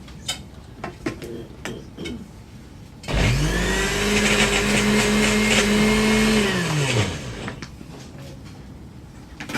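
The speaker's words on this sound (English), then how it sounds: "My blender, the blender's on its last leg" A worn-out kitchen blender whirs loudly for about four seconds as it purées basil and olive oil, its motor pitch rising at start-up and falling away as it stops, with quieter kitchen clatter before and after.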